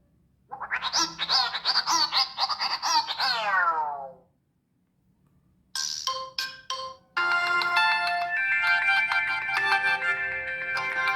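Ringtone played through the bottom speaker of a Tecno Spark 8C phone: bright chirpy melodic tones, then a pause, staccato beeps and a steady loud electronic tune, clear and close with no talking.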